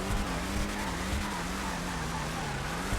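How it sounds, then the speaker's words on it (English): A Viseris sports classic car engine in a video game, a steady loud engine drone holding a low revving tone throughout with slight pitch wobble, close and continuous with no talk. "Listen to the sound of this engine."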